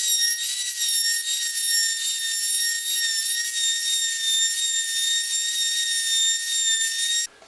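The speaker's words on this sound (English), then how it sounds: "I need to get the Dremel and start grinding." A high-pitched Dremel rotary tool whines steadily as it grinds against metal, loud and close, running continuously before cutting off abruptly at the end.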